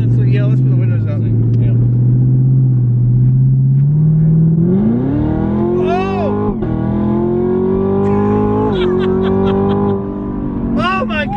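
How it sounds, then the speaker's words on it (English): Exhaust of a Camaro ZL1 fitted with a Corsa Extreme system, heard from inside the cabin with the windows up: a loud, deep engine drone that climbs through rising revs, with people talking over it. "it's louder inside here, obviously, which is what we wanted, but it's a different exhaust note than the Borla and some of the others"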